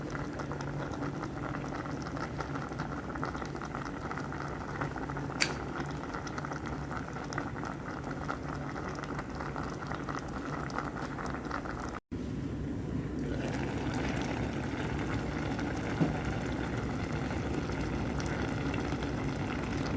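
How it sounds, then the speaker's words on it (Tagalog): Paksiw broth bubbles at a vigorous, steady boil in a pot, close and continuous, with a brief break partway through before the churning bubbling resumes. "ayan kumukulo na"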